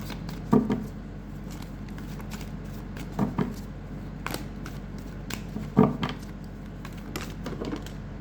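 Tarot cards dropping and scattering onto a surface, a few separate bursts of soft papery slaps and rustles amid quiet background hiss, spaced several seconds apart.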